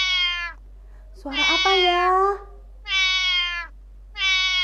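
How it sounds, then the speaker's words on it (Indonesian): Four drawn-out cat meows, loud and close, separated by short pauses; a brief spoken question overlaps the second meow. "Kucing, benar."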